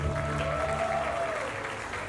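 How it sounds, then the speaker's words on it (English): Audience at the Mister International 2023 pageant applauding after the swimwear presentation, a dense continuous clapping with a sustained musical tone running underneath for about two seconds. "Big round of applause, please."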